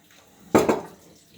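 Alkaline water at 9.5 pH pouring from a Kangen water ionizer, a short splashing gush of about half a second that rises suddenly and then tapers off, close and fairly loud against a quiet room.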